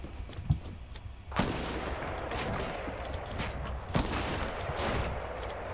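Gunfire in the video game Fortnite, a few sharp shots scattered over a steady game background, with no talking.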